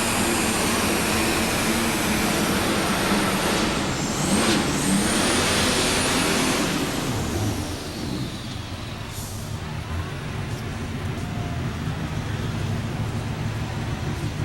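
Light super stock pulling tractor at a tractor pull in Louisville, Kentucky, its engine roaring loud and steady for several seconds before the noise drops to a lower rumble, with no talking.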